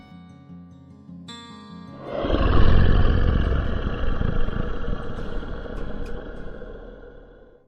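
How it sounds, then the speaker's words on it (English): Loud, deep tiger roar rising after a faint lead-in and holding for several seconds before trailing off, a single sustained rumbling call heard alone. "老虎。"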